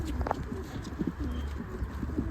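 Pigeons coo softly and repeatedly at close range, low throaty calls overlapping in a gentle, uneven rhythm.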